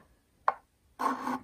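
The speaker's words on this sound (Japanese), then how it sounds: "はい、切った指板の角をヤスリで少しきれいにしていきます。" A file rasps against the cut corner of a violin fingerboard, one short scrape followed by a longer rough stroke, close and fairly quiet.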